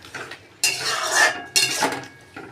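A pumpkin and potato curry with green chillies and sugar is stirred in a pot, giving two strong scraping, clattering bursts of a spoon against metal between quieter pauses, close by.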